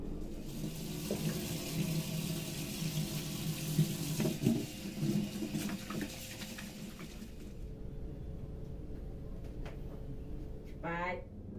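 A tap gushes steadily into a sink as something is rinsed during household cleaning, a loud close splashing rush that stops after about seven seconds, with a brief voice near the end.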